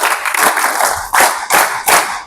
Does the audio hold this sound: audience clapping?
yes